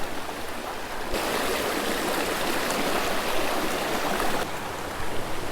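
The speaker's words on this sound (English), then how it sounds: "This little waterfall up here." A small waterfall in a cold trout stream pours steadily, a close, dense broadband rush of falling water that swells louder in the middle and holds constant with no voices.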